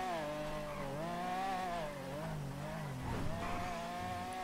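A $1.3 million supercar's engine in GTA drives in the rain, a sustained revving whine whose pitch rises and falls as the car accelerates and eases off, with a brief dip and tire-like scrape before climbing again; no talk.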